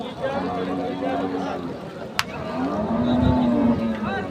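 Cattle moo loudly nearby at a livestock market, long low calls rising over a busy background of chatter and voices, with a sharp click midway.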